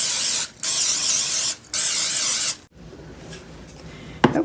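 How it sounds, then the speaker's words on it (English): Cooking spray is misted from an aerosol can onto a muffin pan for pumpkin muffins, three loud hissing bursts close by, followed by quiet handling noises and a clunk. "Okay, then we'll spray this pan."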